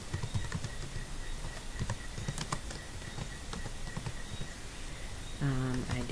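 Faint, quick keystrokes tap on a computer keyboard while form fields are filled in Microsoft Word, an uneven run of clicks over a soft room background, ending with a brief tonal sound.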